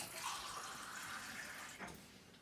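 Tepid water is poured into a container for a sourdough starter: a faint, quiet trickling stream running steadily for a couple of seconds in a home kitchen.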